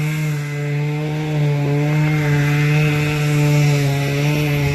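A chainsaw cuts through a big chunk of wood, its engine holding a loud, steady, close drone throughout with slight shifts in pitch as the chain bites.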